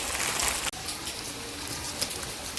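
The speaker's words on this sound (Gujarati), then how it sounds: "વરસાદ પણ એટલો પડે છે" Steady broadband hiss of rain falling, continuous and fairly close, with a brief dropout early on and no voices.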